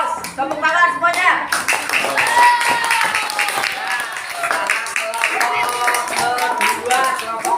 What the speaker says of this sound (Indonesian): Tepuk tangan untuk kelompoknya Putra Dewa betul semua